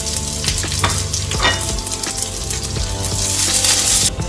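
Onion, garlic, ginger and curry leaves sauté in hot oil for a Kerala beef curry, giving a loud, close, constant sizzle with scraping stirs and spoon clinks throughout. No one talks.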